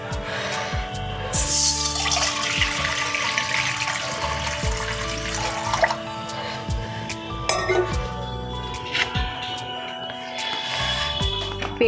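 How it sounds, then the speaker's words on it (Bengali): Water poured into a kadai on the stove for boiling vegetables, a steady splashing stream mixed with metallic clinks of the pan, close and fairly loud for several seconds, with no voice. "কড়াতে প্রথমে আমি জল দিয়ে দেবো"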